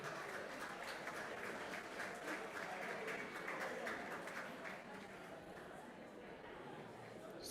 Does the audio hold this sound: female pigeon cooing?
no